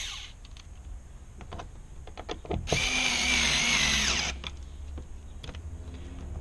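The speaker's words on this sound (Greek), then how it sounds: "Βάζουμε και τη βίδα." A power driver runs a screw into the interior door panel of a Suzuki Jimny, a loud, close whir lasting under two seconds, with light plastic clicks and handling noises before and after.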